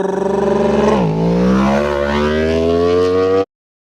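A voice imitates a motorbike revving, a buzzing lip-trill engine noise that drops in pitch and then climbs steadily before cutting off abruptly.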